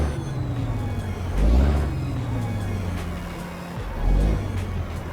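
Air brakes release with a hiss on a Ford Aeromax truck in the American Truck Simulator game, heard over a steady low engine idle rumble, with two stronger swells of low engine sound.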